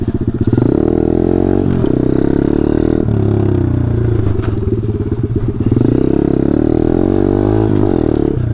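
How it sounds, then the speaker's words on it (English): A loud pit bike engine revs hard and steadily, its exhaust blatting and droning up close, with brief dips in pitch between pulls. "Just because of like a loud exhaust or whatever."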